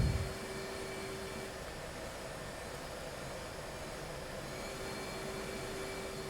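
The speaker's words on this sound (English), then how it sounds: "Alright, we'll kill the left engine." In a flight simulator game, an F/A-18 Hornet's jet engine whines and roars as a steady, broad noise, with a brief louder burst at the start and then an even hum.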